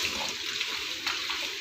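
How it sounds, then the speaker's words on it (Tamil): Quail meat is rinsed in water in a home kitchen while cooking a spicy kadai gravy, with a steady splashing, running-water wash sound close by and no talking. "இப்போ நல்ல காடையை நல்லா கழுவி நல்லா க்ளீன் பண்ணி எடுத்துக்கலாம்."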